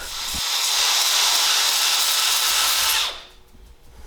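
A power sander whirs loudly and steadily for about three seconds on shed antlers, a hissing abrasive buzz, then winds down and stops.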